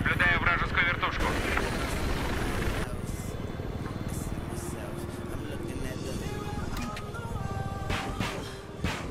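A helicopter's rotor chop and engine drone rumble continuously in a video game, loud and close, with brief voice-like bursts and clatter over it.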